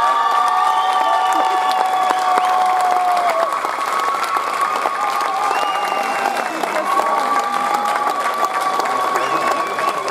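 Sustained audience applause with cheering at a prize announcement during a cimbalom music competition preliminary round in Strážnice, steady and dense throughout.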